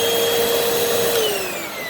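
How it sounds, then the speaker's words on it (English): A Hoover WindTunnel vacuum cleaner runs steadily and loudly up close, its motor whine holding a constant pitch and dipping slightly toward the end, with no talking. "It'll loosen once I turn the vacuum back on"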